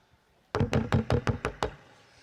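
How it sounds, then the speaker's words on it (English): Seven hard, evenly spaced knocks strike a door in quick succession, loud and close, then the sound stops. "Another terrible knock at the door."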